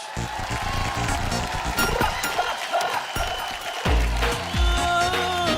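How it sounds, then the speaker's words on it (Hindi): A crowd claps and cheers to welcome Aakash, a young child performer on a fair-themed talent show finale, with steady applause mixed into loud stage music and brief voices. "जोरदार ताली से स्वागत कीजिए, वो परफॉर्मर हैं आकाश"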